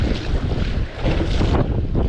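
Strong wind buffets the microphone on a sailboat at sea, a loud continuous roar and rumble with gusty swells and water noise beneath, no voices.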